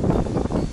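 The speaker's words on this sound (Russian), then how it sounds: "Просто нереальный ветер." Strong gusting wind during a thunderstorm on a riverside fishing trip on the Desna buffets the microphone in a loud, continuous low roar with no other sounds.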